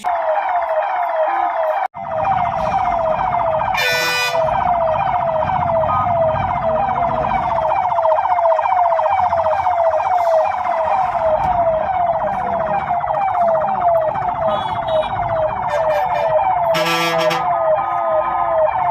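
A wailing ambulance siren sounds loud and close, carrying a patient and stuck in heavy town-centre traffic blocked by private buses on a congested state highway in Kerala, with traffic noise underneath and two brief horn blasts.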